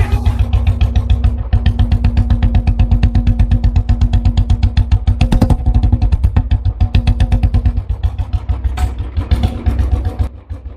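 A motorcycle engine thumps in a fast regular pulse, loud and close throughout as the bike rides along a long road.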